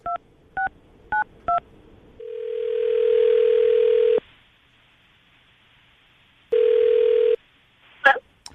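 Telephone call placed on speaker: four quick DTMF dialing beeps, then a steady dial tone that stops, silence, and a second ring tone burst before a brief click at the end.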